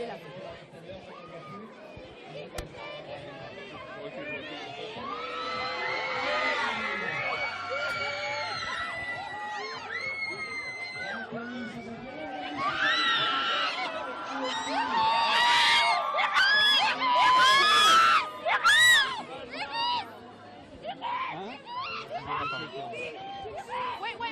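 Crowd in Lille cheering and shouting for Iris Mittenaere's return, swelling into loud whoops and high-pitched screams midway before easing back to chatter, with someone talking close by.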